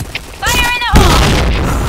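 A grenade goes off in the shooter game Point Blank, one heavy booming blast with a rumbling tail, loud and close, preceded by a short burst of game sound.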